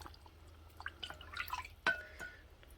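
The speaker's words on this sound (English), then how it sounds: "Now I'm going to put my broth in there. I can't pour that. I have to scoop it." Broth is scooped by hand into a glass canning jar packed with hamburger meat, giving close, small liquid drips and splashes with one sharper glassy clink partway through.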